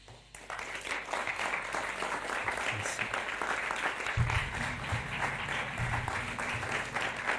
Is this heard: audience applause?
yes